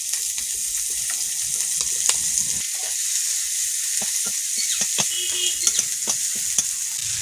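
Spices fry in hot oil in a pan with a steady, close sizzle, broken by scattered clicks and scrapes as they are stirred.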